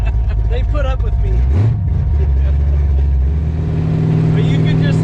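A C3 Corvette's loud engine and exhaust rumble steadily while driving, a dense low drone with a pitch sweep as it revs, close and continuous throughout, with a voice talking over it.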